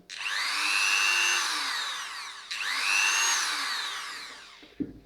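Dremel 3000 rotary multitool running on reduced supply voltage, two whining spin-ups that rise and then sag in pitch, moderately loud and close, with a small clunk at the end.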